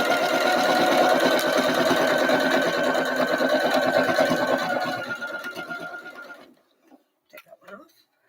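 A sewing machine stitching a Brigid's Cross table mat, fast rapid needle chatter running steadily for several seconds before slowing and stopping, then a few faint clicks and handling sounds.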